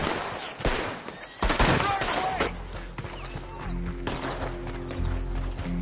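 Gunfire rings out in Red Dead Redemption 2 Online as several loud, close shots crack and echo, mixed with shouting voices and ongoing game noise.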